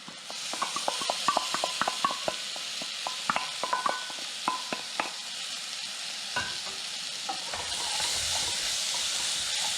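Rinsed red lentils tipped into a hot pot, giving a steady sizzle and hiss with scattered clicks and scrapes of stirring up close, the frying noise swelling slightly toward the end, no voices.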